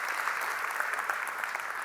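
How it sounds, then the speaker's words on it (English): Steady, dense applause from an audience at a talk, a continuous even wash of many hands clapping with no voices standing out above it. "Let's give them a round of applause."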